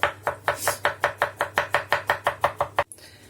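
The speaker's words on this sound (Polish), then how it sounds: "ogórki takie malutkie dzielę na 3 i tutaj na pół i je siekam" A knife chops small pickled cucumbers finely on a board in a steady, even rhythm of about fifteen crisp, close strokes, ending abruptly.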